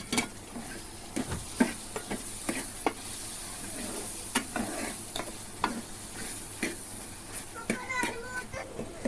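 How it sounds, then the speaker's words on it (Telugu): Ridge gourd and egg curry with chili powder stirred in a pan, repeated scraping spoon strokes over a steady sizzle, with faint children's voices in the background. "మూత అయితే తీసుకొని కలుపుకుందాం"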